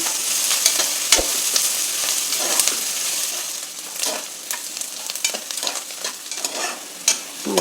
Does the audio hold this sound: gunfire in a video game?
no